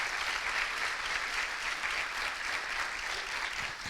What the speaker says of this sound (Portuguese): aplauda com alegria nessa noite.